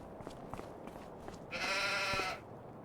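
A farm-sim sheep bleats once from Farming Simulator 25, a single sustained nasal cry rising above soft background game ambience and faint clicks.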